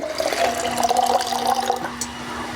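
Water being poured into maida flour for parotta dough, a steady close gushing pour for about two seconds that tapers off into a quieter trickle.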